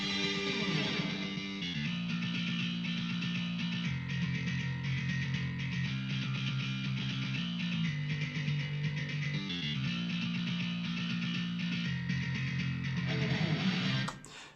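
Programmed bass track for a song plays on its own, a steady low riff with repeating rhythmic notes and shifting pitch, continuous and solo without voices.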